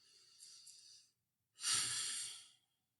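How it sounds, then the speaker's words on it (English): One slow, calm deep breath, a soft inhale followed after a short pause by a longer, louder exhale close to the microphone, in an otherwise quiet room. "Take another deep breath in and out."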